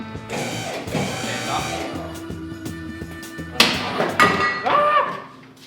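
Front axle being worked out from under a truck: a series of metallic clunks, ratcheting knocks and clinks, some sharp and close, with a louder burst of banging near the end and voices talking over it.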